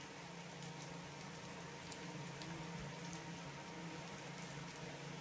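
Bitter gourd tikkis frying in hot oil, a steady close crackling and sizzling patter that runs evenly throughout with no talking.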